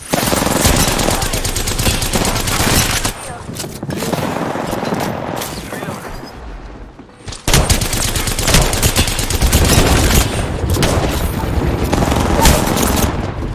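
Sustained, dense automatic gunfire and bursts in a sci-fi squad shooter game, loud and continuous throughout with a brief lull near the middle before the firing resumes at full intensity.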